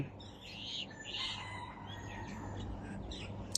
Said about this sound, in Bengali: এত সুন্দর করে পাখি ডাকতে আছে